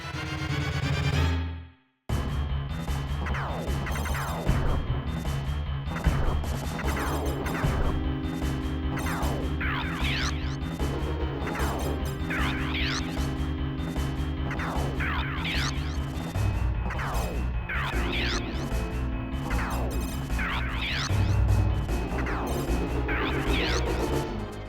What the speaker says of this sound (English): The weapons I'm using right now is called Crush.